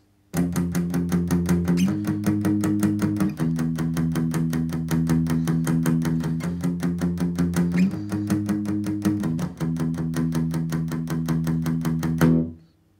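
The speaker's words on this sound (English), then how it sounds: "instead of straight strumming it, you're going to be palm muting it." Palm-muted electric guitar strumming through the chords of a song: tight, chunky, rhythmic chugs in a steady pattern with brief chord changes, close and fairly loud, with no talk, ending in a ringing final strum.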